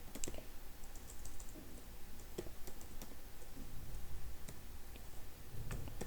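Code being typed on a computer keyboard, soft irregular key clicks and taps at low level, scattered in quick bursts.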